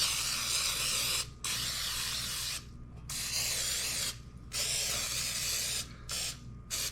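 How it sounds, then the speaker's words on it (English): Repeated bursts of aerosol cooking spray hissing onto a baking pan for sandwich bread, several long sprays separated by short pauses, close and loud. "spray the hell out of this"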